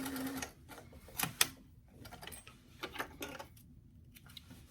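A sewing machine stitches the front crotch seam of a garment, a close, quiet mechanical clatter in short uneven bursts with sharp clicks between brief pauses.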